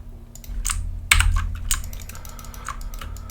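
Computer keyboard keys pressed during icon design work in Illustrator, a quick run of light close clicks with one sharper tap near the middle, over a low steady hum.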